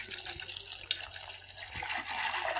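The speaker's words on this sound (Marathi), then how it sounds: "कमीत कमी पाणी टाकून थोडंसं चवीनुसार मीठ टाकून घेते" Water poured into a pressure cooker holding soaked chickpeas, a soft continuous splashing stream, close and moderately quiet, with no talking.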